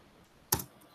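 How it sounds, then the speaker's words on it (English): A single sharp keystroke on a computer keyboard while entering a git command, one crisp close click standing out against a quiet background. "You can do it by simply typing the command git"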